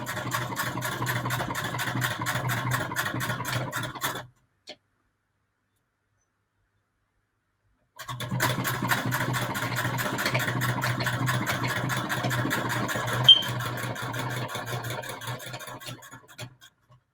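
Sewing machine stitching hand-dyed patchwork, a fast, even run of rapid needle clicks, pausing for a few seconds of silence, then resuming in a second steady burst before trailing off.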